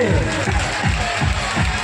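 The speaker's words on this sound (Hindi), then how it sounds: "आप लोग बिल्कुल संकोच न करें, जोरदार तालियों की सेवा।" A crowd claps at a Bhagwat katha religious gathering. The applause is loud, thick and continuous throughout, with rhythmic low thumps pulsing beneath the clapping.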